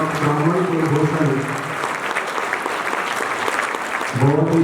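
Loud, steady applause fills a hall during a Mahashivratri celebration, with voices briefly audible at the start and end over the clapping.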